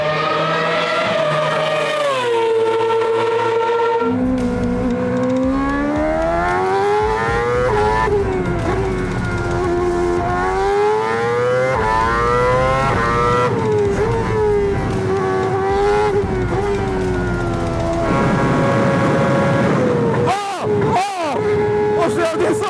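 Esteban Ocon's Formula 1 car driven on a track, a loud high-pitched engine whine rising and falling through gear changes for over twenty seconds, with a brief drop near the end.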